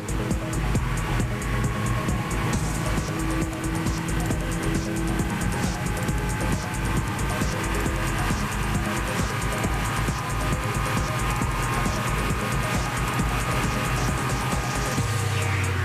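A 520-horsepower Porsche sports car runs at high speed on the autobahn, its engine and road roar steady, loud and continuous throughout, with no talk.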